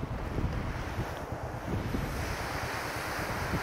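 Sea waves washing onto a beach in Thuan Nam, Ninh Thuan, Vietnam, a soft, steady surf with low rolling wash and light wind, fairly faint and with no talk.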